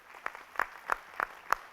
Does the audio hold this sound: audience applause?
yes